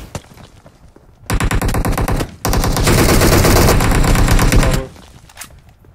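Gunfire in the PUBG Mobile battle royale game, with loud, close bursts of rapid shots in two stretches separated by a short pause, dense and continuous rather than spaced single shots.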